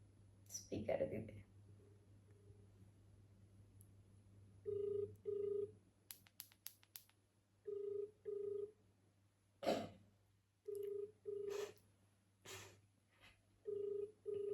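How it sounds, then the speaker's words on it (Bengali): A phone call placed on speakerphone late at night rings out in repeated paired ring-tone bursts, fairly faint, with short keypad-like beeps and scattered speech sounds between the rings. "ফোনটা করি তাহলে"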